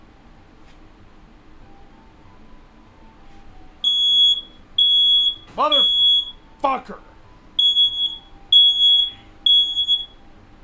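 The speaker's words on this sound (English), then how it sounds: "That's not the CO alarm, that's a smoke alarm." A smoke alarm gives a run of loud, piercing, evenly spaced beeps that pause briefly and then resume, while a man mutters and swears close by.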